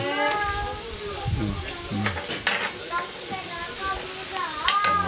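Rice sizzles and crackles in a hot pan with scraping stirs, while people talk over the frying at close range.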